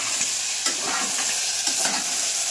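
Onions, green chilies and tomato frying together in a pan, a steady close sizzle broken by a few soft scraping stirs of the spoon, with no talking.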